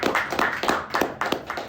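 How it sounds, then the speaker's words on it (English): A small group claps briefly for a speaker at a Governance Lab session during a roundtable discussion, the claps soft and uneven, about a dozen scattered hits in under two seconds. "let's do a quick round of applause for yourself"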